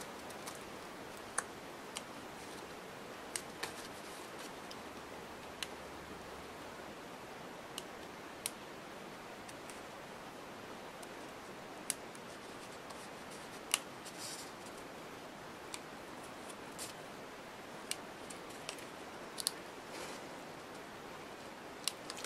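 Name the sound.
scissors cutting out paper for a scrapbook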